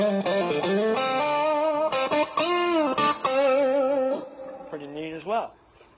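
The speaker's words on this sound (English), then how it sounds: "So this is kind of a rhythm distortion." Distorted electric guitar, a Line 6 JTV-69 Variax through a Blackstar HT Club 40 amp, plays chords and a sliding riff, with a thick, crunchy, saturated rhythm tone that rings out and fades at the end.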